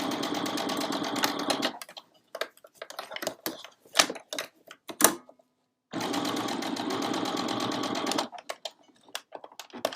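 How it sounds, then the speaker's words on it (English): A sewing machine stitches a stocking held with clips in two long loud runs of rapid mechanical whirring, separated by a stretch of short clicks and taps from handling and a brief silence. "put my needle down, and we're just going to start stitching"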